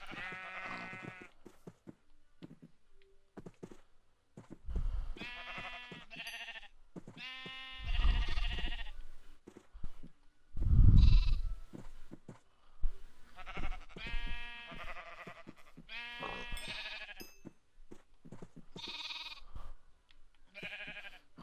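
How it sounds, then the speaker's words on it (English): Sheep on a farm being bred for more lambs, bleating repeatedly in a series of clear, loud calls with short pauses between them, several voices overlapping at times, with no talk over them. "There's the sheep that I've been working on, because I'm trying to breed them so I can get as many sheep as I can."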